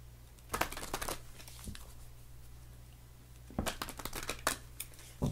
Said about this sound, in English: Get this out of the way so I can ruffle shuffle the cards